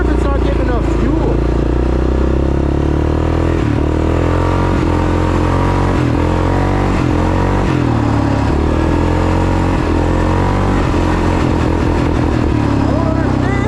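A worn $500 Yamaha Grizzly 660 ATV engine drones steadily while driving on a trail, a loud continuous mid-pitched motor with small throttle dips, someone talking over it.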